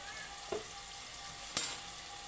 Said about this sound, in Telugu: అల్లం వెల్లుల్లి పేస్ట్ ఏంటి వేసేసుకోండి, అల్లం వెల్లుల్లి పేస్ట్